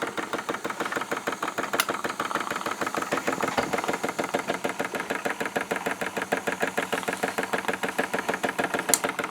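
A Wilesco D-18 mini steam engine power plant running on live steam, chuffing in a fast, steady mechanical rhythm that carries on evenly at close range.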